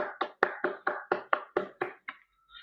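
About ten evenly spaced hand claps ring out at a Toastmasters meeting, crisp and close with a quick steady rhythm, then stop abruptly.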